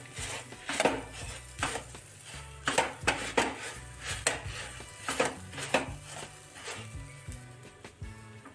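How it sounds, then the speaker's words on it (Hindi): A handheld crusher mashes boiled eggs in a pan for masala egg bhurji, giving repeated close metallic scrapes and soft thuds in an irregular rhythm, with no talk. "अगर आपके पास ये क्रशर है तो हम इससे भी मिक्स कर सकते हैं।"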